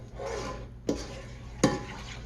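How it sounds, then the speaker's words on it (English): Vegetables with soy sauce are stirred in a pan for an egg roll filling: a low scraping shuffle with two distinct louder scrapes of the utensil over a faint background sizzle, and nobody speaking. "I'm stirring in between each addition because I don't want anything to burn"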